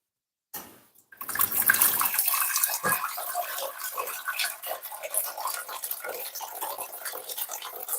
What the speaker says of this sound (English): Just going to put some hot water in that.